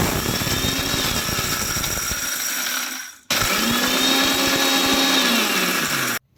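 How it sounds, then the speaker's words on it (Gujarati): Kitchen mixer grinder grinding dry fenugreek seeds into powder, a loud whirring motor roar in two bursts separated by a short pause, each run winding down as it stops. "પહેલાં ખાલી આપણે મેથીને જ આપણે પીસી લેવાની છે મિક્સરમાં"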